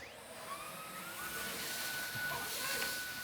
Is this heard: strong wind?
no